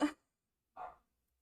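Dogs indoors give two short, sharp barks about three-quarters of a second apart, close by with silence between them.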